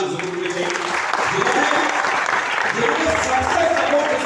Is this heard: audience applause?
yes